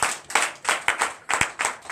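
A church congregation at a Sunday service in Benin claps in a quick, loose rhythm of sharp bursts, many hands together at close range, with no voices over it.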